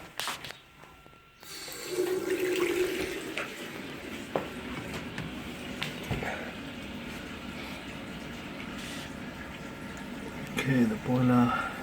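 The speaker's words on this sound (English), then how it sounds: "I'm going to turn on the hot water." Hot water tap running at a home fed by a Vaillant boiler with a hot water fault, a steady rushing flow after a click, with some knocks and a voice speaking over it.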